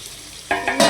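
Beef pieces dropped into hot oil for a dry chukka fry start a sudden loud sizzle after a quiet moment, and the sound swells in two further surges as more meat goes in and is stirred.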